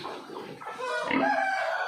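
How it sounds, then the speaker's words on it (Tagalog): Large farm chickens and a rooster in a pen beside pigs, with clucking and a crowing call rising clearly in the second half, close by and fairly loud with no talk over them. "Pakita ko sa inyo yung malalaking manok."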